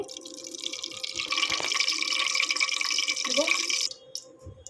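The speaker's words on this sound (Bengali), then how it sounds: "মাংসটা ভাজার জন্য আমি তেল দিয়ে দিচ্ছি।" Cooking oil poured into a pan for frying chicken gives a continuous splashing trickle for about three seconds, close and moderately loud, ending abruptly with a few faint clinks afterward.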